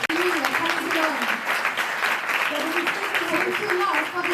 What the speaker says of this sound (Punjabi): Let's close your eyes and give big clap to the Lord.